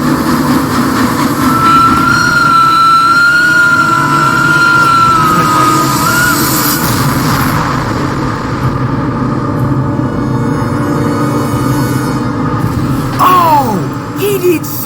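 Steam train running along a rail line into a siding in an animated TV episode, a steady loud rumble with a high whistle-like tone and a screech near the end, under faint voices.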